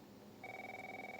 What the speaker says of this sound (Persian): اگه اشتباه نکنم تلفن با زنگ میخوره.